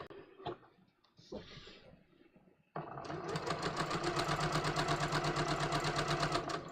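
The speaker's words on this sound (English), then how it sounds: "we are going to stitch around this" A sewing machine stitches around a welt pocket, starting after a few soft handling sounds and running steadily and loudly for about four seconds with an even, rapid rhythm.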